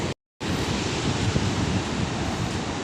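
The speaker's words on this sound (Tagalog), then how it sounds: "medyo maliliit na pero sunod-sunod or dikit-dikit yung alon" Small, closely spaced sea waves wash steadily at Sabang, Palawan, a continuous broadband surf roar with wind across the microphone, briefly interrupted by a short gap near the start.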